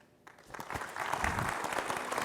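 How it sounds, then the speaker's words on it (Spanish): An audience at a labor-market conference panel breaks into applause, building quickly from quiet to a dense, sustained clapping from many hands in a hall. "Fuerte el aplauso para nuestros invitados panelistas"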